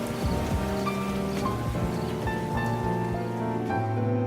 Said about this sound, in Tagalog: lalo na't ang lakas ng ulan